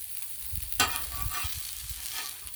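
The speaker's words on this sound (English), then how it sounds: "This is how I do my smash burgers. I plop the balls down, flip them over." Smash burgers fry on a Blackstone flat-top griddle with a steady crackling sizzle. A brief scrape or press near the start adds a louder burst, with low thumps underneath.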